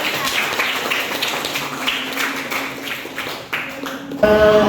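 Students in a classroom clap for a classmate's correct answer, a loose scattering of claps that thins out toward the end before a different sound cuts in.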